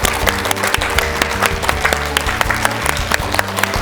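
A studio audience on a Korean morning talk show claps steadily to welcome a guest, a dense, even burst of applause that is close and sustained throughout.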